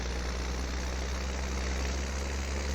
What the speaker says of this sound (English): This tractor is loud.